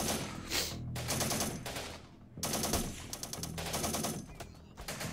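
Bursts of automatic rifle and machine gun fire in the Syrian Warfare: Return to Palmyra strategy game, several loud rattling volleys separated by short gaps, near and dense.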